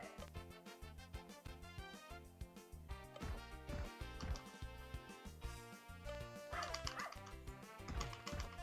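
A dog in the video game Soccer Kid yips and barks repeatedly amid busy, loud game music that keeps playing throughout.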